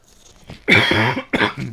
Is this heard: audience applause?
no